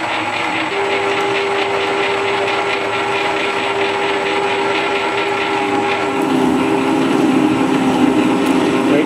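A lathe parting tool cuts into metal under steady feed, producing a continuous close mechanical whir with a sustained whining tone that shifts pitch partway through, growing slightly louder toward the end.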